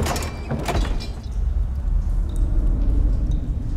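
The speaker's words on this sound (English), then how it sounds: "why would they be trying to open the door at night?" Someone tries to open a chamber door at night in House of the Dragon: a few quick knocks and rattles come close together at the start, then give way to a low, rumbling ambience.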